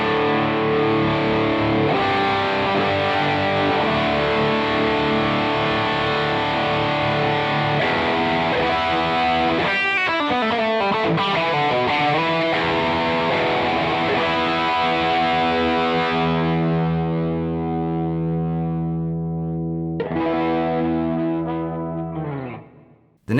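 An electric guitar played through a Beetronics Wannabee dual drive pedal on its Klon side with the gain raised. It gives sustained, thick overdriven chords with a short bend-like flurry midway, then rings out and fades at the end.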